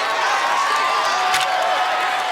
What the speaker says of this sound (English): You're getting the crowd fired up as he jumps up.